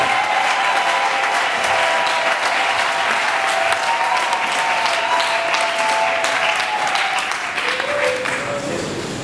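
Loud, sustained applause from a large church convention audience, steady crowd clapping throughout with faint held musical tones underneath, easing a little near the end.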